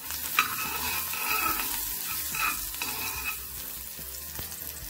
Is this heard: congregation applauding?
no